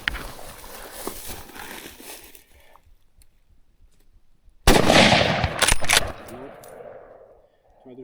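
A sharp rifle shot during an Iberian red stag hunt in the Chase the Wild game set in Spain, one loud crack after a quiet stretch, followed by a fading echo and rustling.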